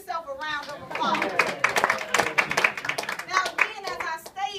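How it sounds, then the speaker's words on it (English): A conference audience gives a short burst of clapping, ragged and moderately close, with people talking over and around the applause. "give yourself a round of applause"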